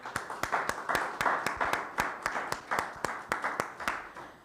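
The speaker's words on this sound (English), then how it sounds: "give yourselves a big round of applause" A small audience at a Fresno arts fund meeting claps in a steady, moderately loud burst of applause, with distinct individual claps audible throughout and no talking.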